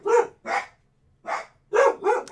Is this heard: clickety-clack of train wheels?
no